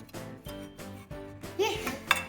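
Pancake batter for blueberry pancakes is whisked in a bowl, giving a few rhythmic clinking, scraping strokes of metal against the bowl, fairly quiet and close, with brief chatter at the end.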